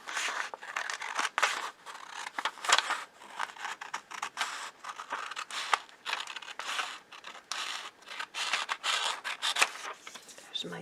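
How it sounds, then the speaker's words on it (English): Scissors cut a paper sewing pattern apart in close, crisp snips and rustling strokes, repeated steadily over several seconds with paper crinkling between cuts. "just cut them apart and add seam allowance"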